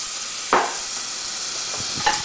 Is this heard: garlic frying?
yes